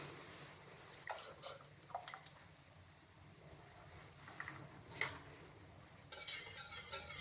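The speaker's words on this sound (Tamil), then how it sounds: "கட்டி விழாமல் நல்லா கலக்கிடுங்க." Paste of almonds, poppy seeds and basmati rice being stirred into milk in a pan, heard as soft, quiet scraping and swirling strokes spread through the clip, close by with no voices.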